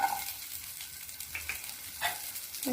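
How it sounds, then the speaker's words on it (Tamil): Chillies, curry leaves and garlic fry in a pan for pirandai chutney, giving a quiet sizzle with a few brief scraping stirs spread through the short stretch. No one speaks. "கருவேப்பிலை போட்டாச்சு. நல்லா வறுபட்டுக்கலாம்."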